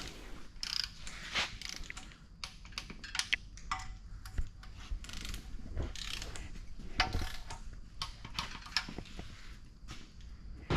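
A ratchet torque wrench clicks and ratchets while tightening engine head studs to 80 foot-pounds on a turbocharged LS V8 being built for a Monte Carlo, heard as busy, irregular close mechanical ticking and clicking throughout with no speech.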